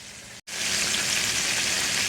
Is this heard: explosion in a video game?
no